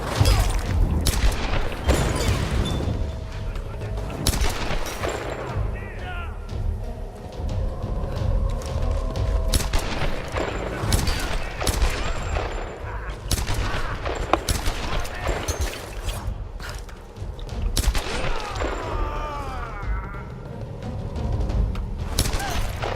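Heavy gunfire from the Tomb Raider video game, with repeated volleys, bursts and booming impacts that rarely let up, loud and dense throughout.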